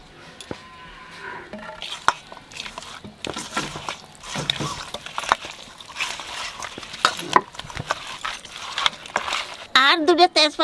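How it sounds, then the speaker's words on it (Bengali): Mustard oil sizzles in a kadai with salt, turmeric and green chillies for a koi fish dish, under close clattering of a metal spoon stirring against the pan, with occasional bursts of voice nearby. "সর্ষের তেল দেবো"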